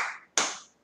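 Two crisp hand claps from children singing a church song, spaced about a third of a second apart, each ringing out briefly and fading in a quiet room.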